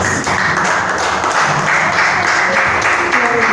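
Church congregation clapping to praise God, a loud, continuous wall of many hands close by with some voices mixed in.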